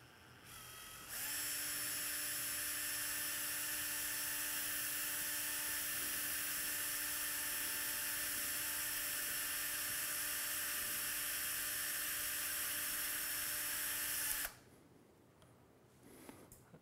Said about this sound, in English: fire our drill hole